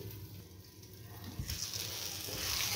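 Mango pieces cooking covered in a pan on a low flame, giving a soft, steady sizzle and faint crackle that grows a little louder and brighter partway through.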